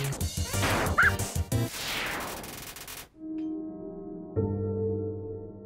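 Lesser Dog from the video game Undertale barks in quick, chiptune-style yaps with crashing hit effects, then a bright synthesized game jingle rings out alone.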